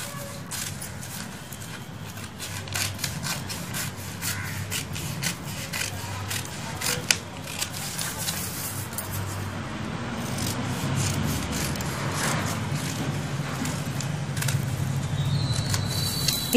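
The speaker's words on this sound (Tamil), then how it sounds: "இது மாதிரி கட் பண்ணி எடுத்துடணும்." Scissors cut through blouse fabric around a drawn neckline, giving a continuous close rasping, rubbing texture with scattered small clicks for the whole stretch and no voice.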